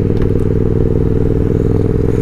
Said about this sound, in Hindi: हमारी जो बाइक है वो चला रहे हैं हमारे संतोष भाई।